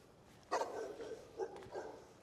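Outdoors in the cold, a voice imitates a dog barking with a few soft, faint woofs.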